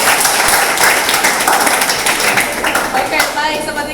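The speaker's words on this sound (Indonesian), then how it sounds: "terima kasih Joshua, tepuk tangannya dulu" Loud applause from a student audience at a school debate, dense close clapping that stays strong for the whole stretch and eases slightly near the end.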